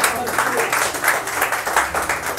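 Audience at a live poetry show applauding, a dense, steady patter of many hands clapping throughout with a faint rhythmic pulse.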